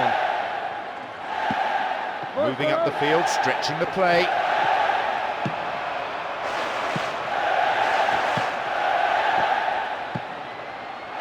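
A stadium crowd in the football video game PES 2009 keeps up a steady roar with swelling murmurs and whistles throughout, while a commentator talks over it and a brief chant or whoop rises midway.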